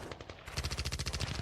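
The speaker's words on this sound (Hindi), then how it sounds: "चारों ओर गोलियां चल रही थी, जगह जगह बम फट रहे थे" Rapid machine-gun fire rattles in fast, even bursts on a battlefield, loud and close, each shot a sharp crack in a continuous stream after a short rumbling lead-in, with no voices.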